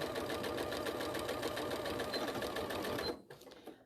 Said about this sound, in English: I start from the edge there and sew across at my 1/4 inch seam